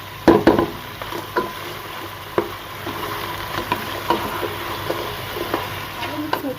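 Mutton roasts in a karahi for a Lahori mutton karahi, hissing with a steady sizzle while a spoon scrapes and knocks against the pan in irregular bursts.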